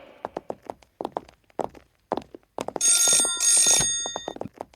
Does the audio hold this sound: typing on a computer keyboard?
no